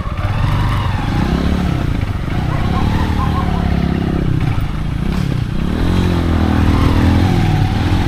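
A motorcycle engine runs steadily throughout, droning loudly up close with road noise and some rattling, as if heard while riding.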